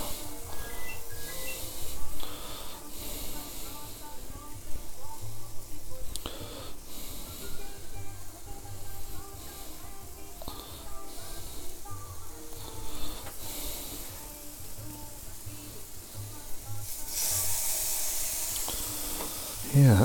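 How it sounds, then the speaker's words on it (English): Chicken shish kebab pieces sizzle steadily in a hot pan, a continuous moderate hiss and crackle running the whole time with faint clatter now and then. "Yeah, that's a nice sizzle, isn't it?"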